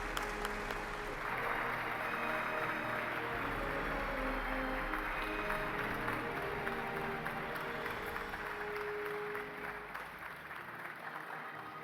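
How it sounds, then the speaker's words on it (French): Sustained applause from a conference audience in Baku for an African airline's team, a broad, even wash of many hands clapping continuously for nearly twelve seconds, easing slightly near the end. "Et applaudissons l'équipe de notre compagnie aérienne africaine à Bakou."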